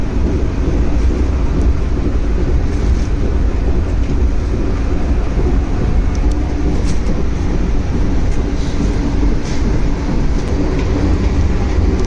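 A Vande Bharat express train running, heard from onboard: a loud, steady rumble of wheels and carriage noise with constant roaring that fills the whole stretch, without pause.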